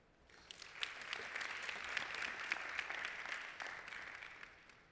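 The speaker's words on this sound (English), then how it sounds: "please give a round of applause to all the speakers this morning and presenters" Conference audience at an epidemiology meeting breaks into applause for the morning's speakers and presenters, a dense, even wash of clapping that swells in and holds steady, heard from a distance.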